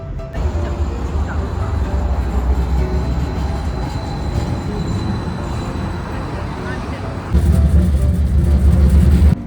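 A Detroit QLine streetcar running on battery with its pantograph down arrives on Woodward Avenue, a steady rumble with faint wheel squeal building, then a louder surge of rolling noise near the end amid city traffic.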